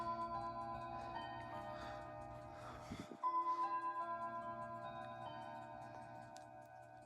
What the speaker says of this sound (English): I'm going to let that clock go off real quick.